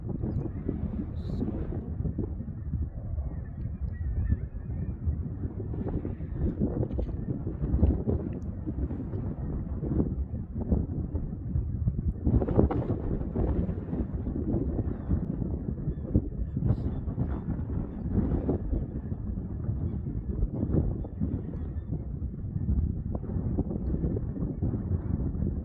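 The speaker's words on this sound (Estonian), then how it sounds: "lennuk stardib. ootu rada pole ollagi. aga vastu tuult ja saab maast lahti." A small airplane takes off into the wind from a rough spot with no proper runway, its engine a steady droning rumble heavily buffeted by wind noise across the whole stretch.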